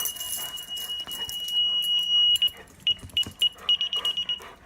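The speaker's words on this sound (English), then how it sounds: "Oh, the alarm's going off though." A car alarm on a Mazda Miata sounds loudly nearby, first as a sustained high tone and then as a rapid series of sharp repeated chirps, with some background movement underneath.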